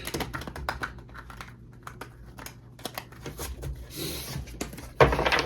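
Cards are shuffled for a tarot-style reading: quick, dry riffling clicks and soft taps in close, quiet bursts, ending with a slightly louder rustle.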